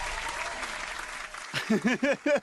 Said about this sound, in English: That's a clap for you, bro.